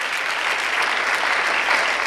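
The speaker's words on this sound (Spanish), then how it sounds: "Bríndale un fuerte aplauso al Señor Jesucristo." Spanish-speaking church congregation giving a strong round of applause, a dense continuous wash of many clapping hands that stays loud and even, with no pauses.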